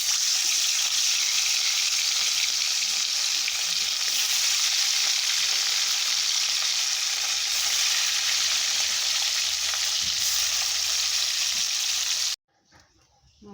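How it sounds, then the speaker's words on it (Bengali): Fish fry in hot oil in a wok with a loud, continuous sizzle and crackle lasting about twelve seconds, then it abruptly drops to near quiet with a few faint clinks. "এখন মাছগুলো ভেজে নেব"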